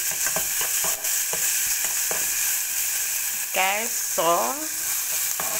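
Onions and pepper fry in olive oil with a steady close sizzle and a few light stirring taps. A voice speaks briefly partway through.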